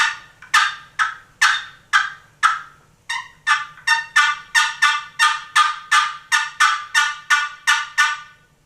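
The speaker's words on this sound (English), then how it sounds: "Clucks, I simply just drag the striker kind of quickly and lift it a little bit." A Primos wooden turkey box call is worked with a quick dragging lift of the striker, producing a steady run of about seventeen sharp, close, evenly spaced clucks with no talking.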